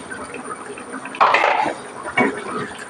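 Chicken curry with curry leaves, mint and rice water being stirred in a pot, a spoon scraping and clinking against the metal in two short bursts with a wet, sloshing texture, close by.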